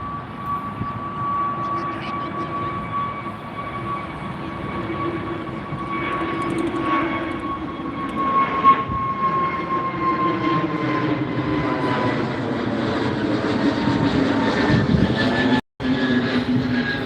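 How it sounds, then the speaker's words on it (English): A large airliner takes off from Heathrow Airport, its engines building into a loud, sustained roar with a steady whine and shifting tones over the whole stretch, heard from nearby at Myrtle Avenue without any talking. "It's a big one taking off there."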